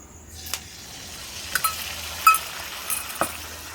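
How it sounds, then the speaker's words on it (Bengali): Chicken pakoras coated in mustard batter are stirred in a hot pan, giving a soft continuous sizzle broken by scattered light scraping ticks and clinks of a spoon against the pan. "ভালো করে নেড়ে নেব। চিকেন পকোড়াগুলো দিয়ে দেব, ভালোভাবে নেড়ে নেব।"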